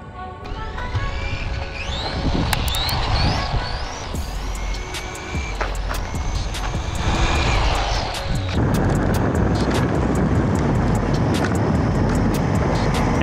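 A Team Associated Datsun 620 RC truck on a 3S pack whines with shifting electric motor pitch under continuous gravelly tire rumble and sharp knocks, running loud and close without pause.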